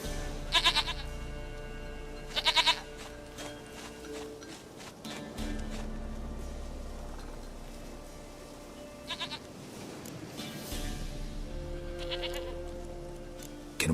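Goat in The Witcher 3 letting out short, repeated bleats at intervals over soft game music, fairly close, with faint hoof-like steps in between and no talking.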